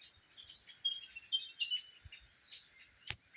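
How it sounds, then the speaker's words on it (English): Birdsong and insect chirps in a jungle, a steady high cricket-like trill with scattered faint bird calls over quiet background, ending in a brief sharp click. "we can listen to the beautiful sounds of the birds"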